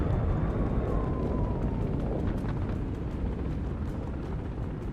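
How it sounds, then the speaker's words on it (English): Missile strike in the military strategy game Broken Arrow, aimed at a hangar: a dense, sustained low roar and rumble of explosion filling the whole stretch, slowly easing off, with no talking. "Let's hope this missile hits the mark."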